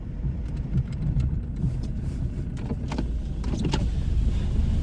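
BMW car rolling slowly with snow chains on its tires, a low rumbling road noise with scattered metallic clinks and rattles throughout, fairly close, with no speech.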